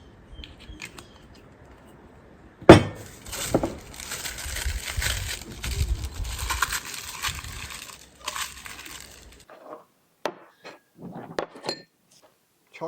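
Ceramic ramekins handled on a campfire cooking setup while being greased with a little olive oil, giving a sharp clack followed by several seconds of rustling, clinking and scraping, then scattered short knocks.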